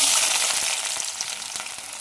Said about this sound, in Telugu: ఉల్లిపాయలు వేసుకొని పచ్చిమిర్చి కూడా వేసేస్తున్నాను. ఉల్లిపాయ అనేది మనకు బాగా బ్రౌన్ కలర్లోకి వచ్చేంత వరకు ఫ్రై చేసుకోవాలి